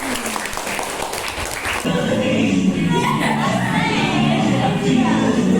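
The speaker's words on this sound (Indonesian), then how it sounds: "Beri tepuk tangan." Classroom or training-session audience applause, a burst of clapping from a group that carries on steadily with voices mixed in.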